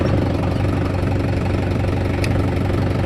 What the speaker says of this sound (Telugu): ఫస్ట్ క్లచ్ మీద కాలు పెట్టి ఈ సెల్ఫ్ మోటరు చాలు చేయాలి